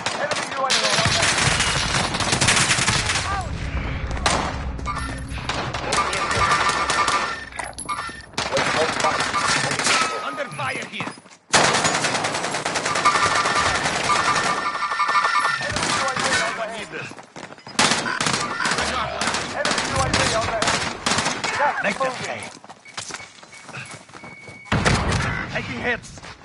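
Gunfire in a PS4 shooter video game: dense, near-continuous bursts of automatic fire and heavy thuds over most of the stretch, loud and close, with voice chat and game callouts mixed in.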